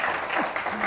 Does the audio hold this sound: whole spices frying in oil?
no